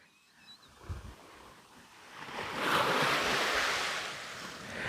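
Ocean waves wash and break on an Australian surf beach at low tide, a soft rolling roar that swells to a steady rush, with wind noise over the surf and no voices.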